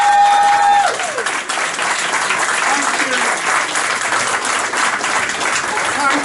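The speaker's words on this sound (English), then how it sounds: "I'd like to say thank you for everybody who claps" Loud, sustained audience applause fills a kickboxing hall of fame ceremony, steady clapping from a crowd continuing throughout after a brief tone at the start.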